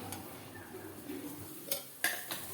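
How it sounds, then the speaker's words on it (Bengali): Raw mango chutney with spices stirred in a pan, soft scraping with a few sharper clinks of a spoon near the end, faint and close, with no voices. "এটাকে আমি ভালো করে নেড়ে চেড়ে নিচ্ছি।"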